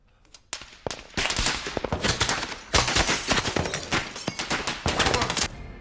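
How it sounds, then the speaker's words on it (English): Dense, cracking gunfire from the war film Warfare, with rapid overlapping bursts and single shots forming a loud, sustained barrage after a quieter opening. "there's a lot of detail when it comes to the gunfire, with it cracking instead of it just being gunshots"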